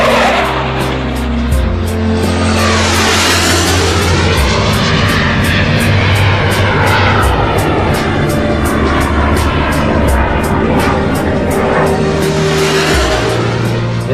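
A Sukhoi jet fighter roars at a test airfield, loud and sustained throughout with rising and falling sweeps as it passes, the engine noise dense and continuous with no talk.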